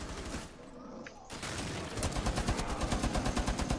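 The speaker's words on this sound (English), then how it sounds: "someone's shooting" Rapid automatic gunfire in Rainbow Six Siege, a run of quick, evenly spaced shots growing louder in the second half after a brief quieter stretch, with no talk over it.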